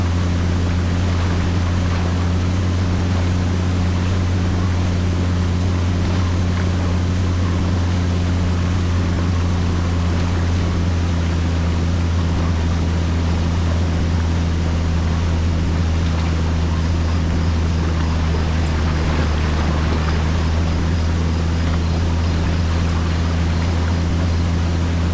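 A patrol boat engine drones steadily on a river in Hell Let Loose: Vietnam, a loud continuous low hum with faint water wash, holding unbroken and alone throughout.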